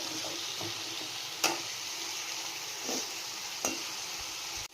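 Onions fry in a pan with cinnamon and cloves for an egg curry, giving a broad, even sizzle. A utensil stirs them now and then with a few distinct scrapes and taps.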